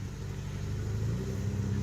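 A Volkswagen engine idles steadily at an outdoor campsite, giving a continuous low, even rumble close by with no voices over it.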